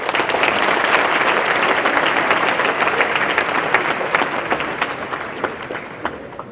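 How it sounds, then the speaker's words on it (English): Audience applause welcoming a speaker at a careers-in-civil-services talk, a dense, sustained round of clapping from a hall crowd that holds steady for several seconds before tapering off at the end. "Please welcome him with a huge round of applause."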